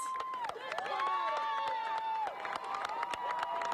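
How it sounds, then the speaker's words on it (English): A crowd at a rope rescue competition cheering and clapping in a continuous, fairly distant roar, with shouted voices and whistles on top and scattered claps throughout. "I'm letting you listen to the crowd here."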